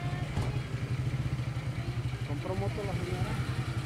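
A motorcycle carrying a whole family idles and putters with a steady, rhythmic low-pitched engine pulse nearby, while voices talk over it.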